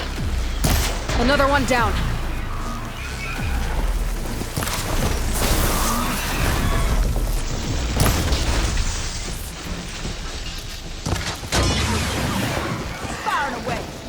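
Weapons firing during Horizon Forbidden West combat. Repeated loud bursts, booms and crashing impacts go on throughout, with a voice speaking briefly over the battle.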